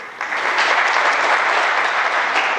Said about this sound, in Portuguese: Uma salva de palmas aqui para o Júlio.